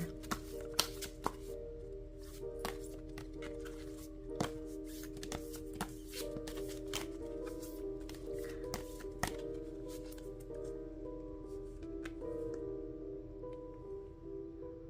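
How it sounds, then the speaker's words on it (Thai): Tarot cards are shuffled by hand in a series of quiet, sharp riffles and taps. Irregular clicks fall over a soft sustained musical tone in the background. "มาเปิดไพ่ใจกันดีกว่านะคะ"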